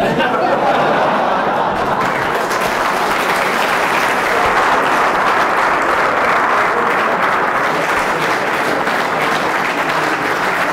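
An audience at a final university lecture on Laplace and convolution bursts into loud, sustained applause, dense clapping filling the room for about ten seconds, with a little chatter and laughter mixed in.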